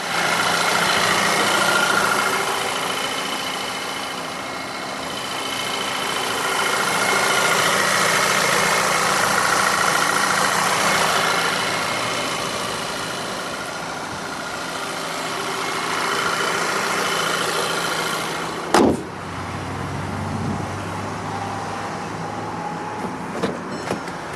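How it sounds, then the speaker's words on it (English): A 2012 Volkswagen Eos 2.0T with a 2-liter turbocharged inline four-cylinder idles steadily, a close and continuous engine hum, with a brief knock or clunk near the end. "equipped with Volkswagen's 2-liter turbocharged inline 4-cylinder. Running absolutely excellent."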